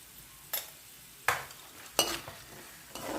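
Peanuts, urad dal and chana dal fry in a pan while being stirred. Four distinct scraping stirs cut through a soft, quiet sizzle at roughly even intervals.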